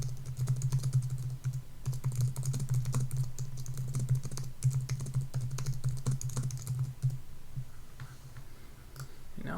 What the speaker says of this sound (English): Now we're typing with our little two fingers.